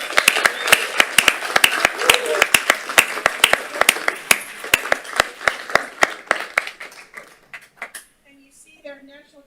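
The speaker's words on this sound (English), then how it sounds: "So I think they really deserve a round of applause for their efforts." People at a city commission regular meeting applaud a team, with sharp, distinct claps from a modest group in a room that fade out over several seconds, followed by brief talking.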